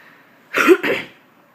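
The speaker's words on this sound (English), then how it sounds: "So I have this weird like cough." A single short cough, split into two quick bursts, sounds close and alone against a quiet background.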